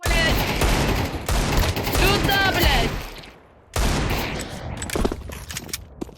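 Loud, close bursts of rapid gunfire in Counter-Strike 2 rattle out, pause briefly, then resume with more scattered shots.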